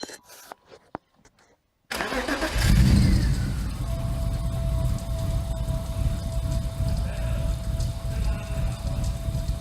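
Modified BMW E36 328i six-cylinder cranking and catching on a cold start after a few faint clicks, then settling into a loud, uneven rough idle with a steady whine.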